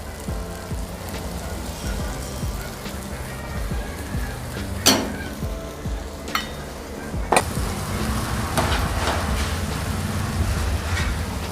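Peas, capsicum and corn sizzle on a hot tawa with other chopped vegetables, a steady frying hiss broken by a few sharp clinks of a spatula and a louder surge of sizzling toward the end.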